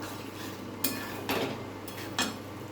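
An egg curry pan is lifted off a kitchen stove, giving three separate metallic clanks of cookware spaced about half a second apart over a low steady background hum.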